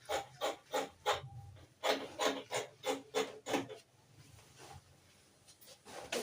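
Scissors cut through dress fabric in a run of rhythmic rasping snips, about a dozen close strokes, then quieter rustling; near and fairly soft with no talking.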